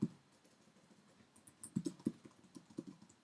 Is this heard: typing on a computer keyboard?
yes